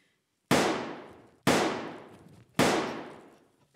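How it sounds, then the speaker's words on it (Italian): Three loud gunshots ring out about a second apart, each sharp crack followed by a long echoing decay. "Ma cosa sono questi spari?"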